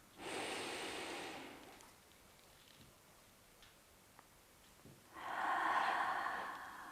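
Deep yoga breathing, a slow full inhale followed by a long exhale, each lasting about two seconds, close and alone with a quiet pause in between.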